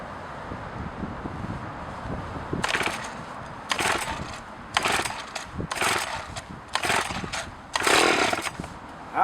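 A Partner 465 chainsaw is pull-started with a run of sharp, rasping bursts, each cord pull firing the small engine briefly before it cuts out, with a constant breezy hiss outdoors between attempts.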